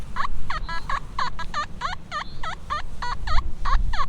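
A Nokta Simplex Ultra metal detector sweeps a field and gives out a rapid series of warbling, wavering signal tones. The repeated chirps are clear over a low rumble of handling noise.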